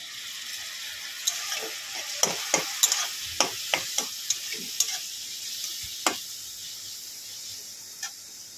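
Egg chow mein stir-fried with dark soy sauce: a soft, steady sizzle runs throughout, cut by a dozen sharp metal scrapes and taps from a spatula tossing the noodles in the pan, with no talking.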